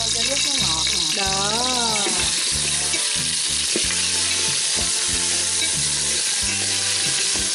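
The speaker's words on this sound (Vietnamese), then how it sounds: "Hãy tưởng tượng rằng quý vị đang nghe cái mùi dốc hành nó khử với dầu á." Shallots fry in hot oil for a Vietnamese braised pork dish, with a continuous bright sizzle heard close throughout. Voices and other tonal sounds run over the top of it.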